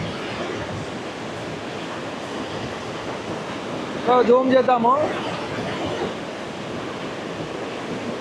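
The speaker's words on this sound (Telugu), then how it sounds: "ఎంత ఫోర్స్తో వస్తుంది వాటర్ చూడండి, చాలా ఫోర్స్తో వస్తుంది చూడండి." Water gushing forcefully through the gates of Srisailam dam makes a steady, broad rushing roar from fairly close, with a brief spoken remark partway through.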